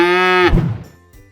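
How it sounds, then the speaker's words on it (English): A farm cow lets out one long, loud, drawn-out moo that ends abruptly, followed by near silence. "Cow!"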